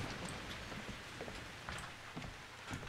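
Rain falls steadily in the Outlast 2 game world as a soft, continuous hiss with scattered drops, faint and unbroken throughout.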